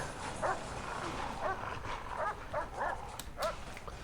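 Dog barking in the Prison Architect prison-management game, a series of short yips and barks spaced through the clip over a steady background of game ambience, moderately loud.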